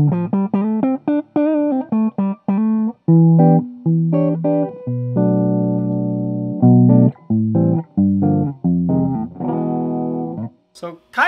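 A 1975 Gibson L6 electric guitar with a failing tone pot, played as a loud, close run of plucked notes and sustained chords with a steady rhythm, alone without voices.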